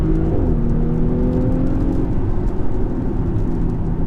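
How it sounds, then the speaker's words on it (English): Engine and exhaust of a 2017 Audi SQ5 under way, a steady loud drone with a rising engine tone as it pulls through a gear, continuous from start to end with no talk. "Then you get the valves that open in the exhaust"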